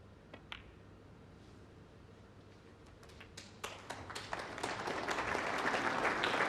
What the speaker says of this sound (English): The applause recognises